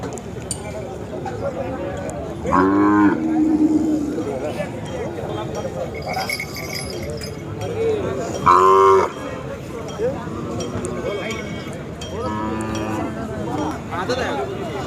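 Khillar cows mooing at the busy Sangola cattle market, several loud low moos at intervals over constant crowd chatter and people talking nearby.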